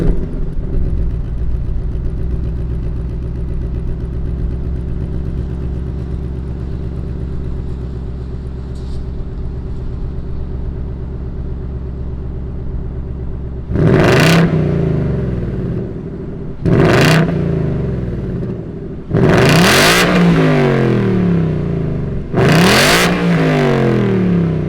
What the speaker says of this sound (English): Let's fire up this V8 and see what it sounds like.